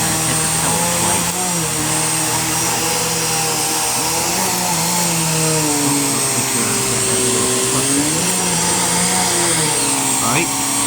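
A Bissell Powerforce Turbo pet vacuum cleaner runs close by with a loud, unbroken motor drone, its pitch wavering slightly from start to end.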